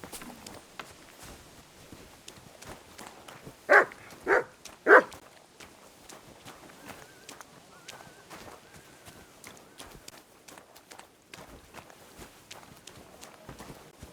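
A dog in the video game Kingdom Come: Deliverance II gives three sharp barks in quick succession, standing out over quiet background footsteps and ambient game sound.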